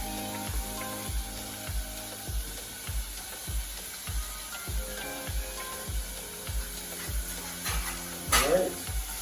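Bacon frying in a pan over medium-high heat gives a steady low sizzle, with regular rhythmic ratcheting clicks running through it and a brief louder clatter near the end.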